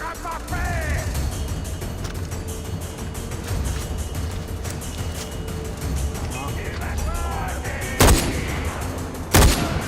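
Gunfire in the video game Far Cry 4: a dense stretch of game sound with two sharp, loud shots near the end, under a player's talk.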